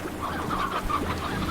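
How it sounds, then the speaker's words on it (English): Chickens cluck softly and continuously inside the Slime Rancher video game, a busy overlapping chatter of several birds over a steady low background hum. "even though there's a lot of chickens in here"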